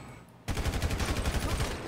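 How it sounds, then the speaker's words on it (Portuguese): A sudden burst of rapid automatic gunfire erupts after a brief quiet moment during a police shootout in the role-play game GTA RP, loud, close and sustained as a dense stream of shots. "Tô levando tiro de todo lado aqui."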